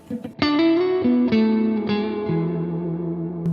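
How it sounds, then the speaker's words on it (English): Guitar chords played through an Orange amp with a Tone King Imperial preamp, its reverb dwell turned high, ring out in a few loud struck chords whose long, washy tails keep sustaining and overlapping without any talking. "That is a lot of reverb. Let's see what happens if we put a lot of dwell."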